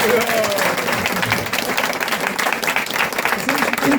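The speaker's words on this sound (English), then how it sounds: "So I think you can give Damodar a round of applause." A crowd applauds Damodar with sustained, loud clapping from many hands, while voices talk and cheer over it.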